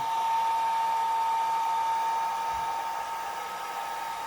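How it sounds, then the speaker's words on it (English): A hair dryer blows steadily with a constant whirring hum and airy rush, close by, running throughout without pause. "then we'll use our dryer to dry it before it spreads too far"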